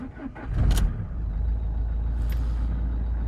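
A used car engine with noisy fuel injectors idles with a low, steady rumble nearby, opening with a brief hissing burst.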